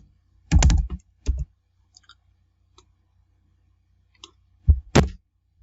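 Keys on a computer keyboard are tapped in short bursts while a SUMPRODUCT formula is typed into Excel, with a cluster of clicks early, scattered single taps, and another quick burst near the end in a quiet room.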